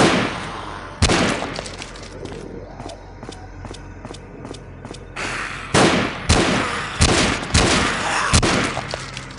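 Gunfire in the zombie shooter Dead Epidemic, a Land of the Dead: Road to Fiddler's Green mod: sharp, loud shots crack out singly and in quick bursts, with scattered footstep shuffles and softer game noises between them.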